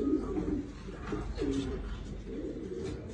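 Racing pigeons cooing in a loft, soft repeated low coos from several birds over a steady background hum, with no one talking.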